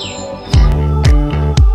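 Recorded birdsong played back through an art sound installation, with a high chirp at the start, then a few sharp percussive hits and a steady tonal bed, loud and close, with no voices.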